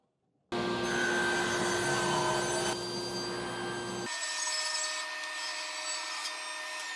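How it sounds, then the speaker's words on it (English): A saw rips a wooden board down to 3 3/8 inches wide. A loud, steady mechanical whine starts abruptly and runs continuously, its tone shifting partway through the cut. "First thing we're gonna do is rip the board down to 3 3/8 inches."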